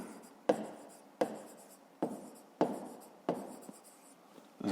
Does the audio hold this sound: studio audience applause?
no